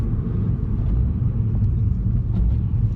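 Ford Fiesta ST Line, brand new, driven on the road with gear shifts; a steady low engine and road rumble runs throughout from inside the cabin, with no talking.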